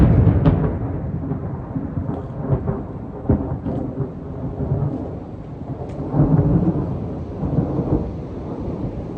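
A thunderstorm rumbles low and heavy with rolling thunder swelling and fading over steady rain, deep and continuous without any talk.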